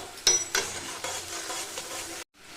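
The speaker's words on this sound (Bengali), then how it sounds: "এবার আমি এর মধ্যে দিয়ে দিচ্ছি জিরা আর কাঁচা লঙ্কা বাটা আমি এখানে মশলাটা কষিয়ে নেব" Cumin and green chili paste fry and get stirred in a pan for a thin fish curry. Sizzling and scraping stir strokes sound close, ending in a brief silence.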